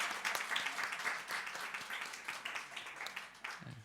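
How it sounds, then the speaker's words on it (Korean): A church congregation breaks into warm applause of thanks, a steady wash of many hands clapping at moderate distance for several seconds before it tapers off. "감사의 박수를 한번 드릴 것 같습니다"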